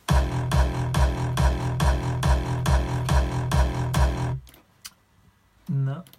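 Layered EDM kick drums in a studio mix, pounding steadily on each beat with a full punchy low end for about four seconds, then stopping into near silence before one short burst.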